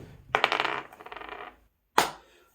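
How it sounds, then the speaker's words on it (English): Astrology dice rattle briefly while being shaken, then a single sharp clack follows a moment later as they land. "Let's see what we got for the dice roll, though."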